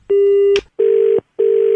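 A telephone disconnect tone after a prank call is cut off: three steady, loud, evenly spaced beeps, each about half a second long, with short silences between them and no voices.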